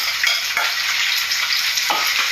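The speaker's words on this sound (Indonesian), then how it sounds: "Numis genjernya pakai ini." Genjer (yellow velvetleaf) sautés in a pan with a loud, continuous sizzle and crackle, plus a few stirring scrapes, with no voices.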